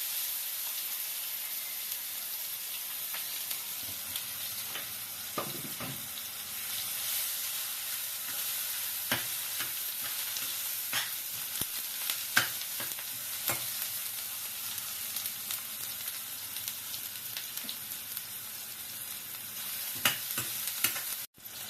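Tomatoes frying in a pan for a ridge gourd curry, a continuous close sizzle with frequent scraping clicks from stirring spread across the whole stretch, no speech.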